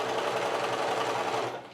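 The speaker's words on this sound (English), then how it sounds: "I'm going to sew all the way down to the very end" Sewing machine stitching quilt pieces with a quarter-inch seam, a fast steady mechanical whir close by that runs without pause and tapers off at the end.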